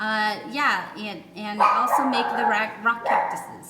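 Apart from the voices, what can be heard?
dog barking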